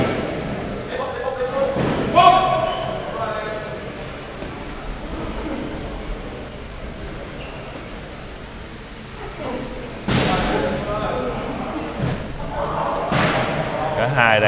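Body shots land in a fight bout as a series of dull thuds and slaps. A commentator talks over them continuously, and crowd noise sits in the background.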